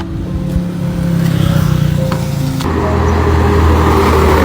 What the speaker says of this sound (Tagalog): May paparating na sasakyan!